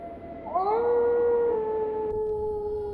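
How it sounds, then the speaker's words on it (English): Wolves in a video game howl with long rising then sustained wavering calls, several voices layered at a moderate distance against a soft background wash. "and listen to the howling wolves."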